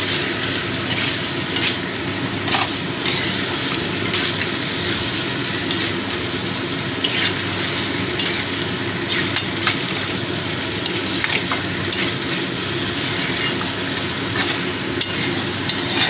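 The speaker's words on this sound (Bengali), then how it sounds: "এই আদা রসুন বাটাটাও ভালো করে মিশিয়ে দেবো" Ginger garlic paste stirred into frying onion masala for a tangra fish curry, giving a steady close sizzle broken by scraping spoon strokes against the pan, with no talking.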